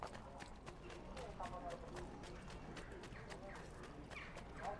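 Horse hooves clip-clop at a quick, steady rhythm in Assassin's Creed 2, faint and continuous under game ambience.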